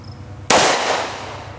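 A Bond Arms Rough and Rowdy pistol fires a single 45 Long Colt round one-handed: one sharp, loud, close blast that cracks suddenly out of quiet and trails off into a decaying roar, with no talking.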